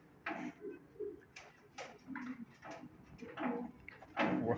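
Pigeons coo close by in a series of soft, throaty, repeated calls with short gaps between them, the last one loudest, and no talking over them.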